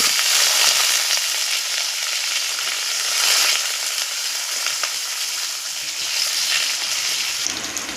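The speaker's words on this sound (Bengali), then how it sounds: "এবার আমি আলুগুলোকে দিয়ে দেবো তেলের মধ্যে।" Potatoes frying in hot oil with black cumin in a wok, a loud, steady close sizzle and crackle running throughout with faint stirring, no voices.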